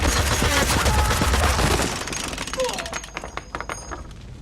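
Loud, dense machine gun fire from a Westworld episode, a heavy burst that thins into scattered sharp shots, with voices talking over it.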